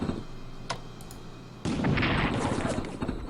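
Heavy tanks open fire in the strategy game Strategic Command: a couple of sharp shots, then a sudden louder burst of rumbling battle noise that stays up to the end.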